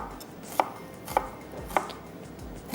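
A knife chops ingredients on a cutting board during shakshuka breakfast preparation: four crisp, evenly spaced strokes land about every half second, close and distinct, with no talking.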